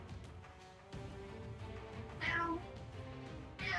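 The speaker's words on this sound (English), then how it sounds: "Here, a fat cat." A fat cat meows twice, brief, rising calls separated by a pause, fairly close over quiet low background noise.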